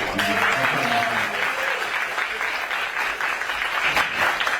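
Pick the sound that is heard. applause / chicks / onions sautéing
applause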